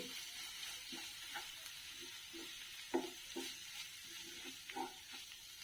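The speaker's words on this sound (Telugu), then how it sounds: "ఈ పొళ్ళు కూడా మనము ఆయిల్లో వేయించుకుంటున్నామండి." Chili powder and coriander powder frying in oil in a pan for a chickpea chole curry, a steady soft sizzle with several scraping stir strokes of a spoon, close and moderately quiet, no talking.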